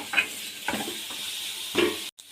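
Onions deep-frying in a pan for a mutton boti fry make a close sizzling hiss, broken by a few short stirring scrapes before cutting off abruptly.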